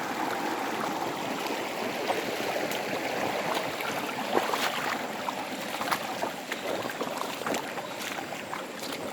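A clear, shallow rural stream in Surigao flows steadily over its bed, giving an even, close, continuous rush of water with no voices over it.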